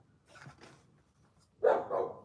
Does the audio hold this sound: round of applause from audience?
no